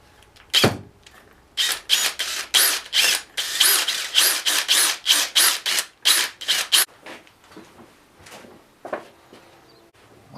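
Drill bursts into a tube section while building a dinosaur head: about a dozen short, loud, whirring pulses in quick rhythmic succession, separated by brief pauses, close and alone.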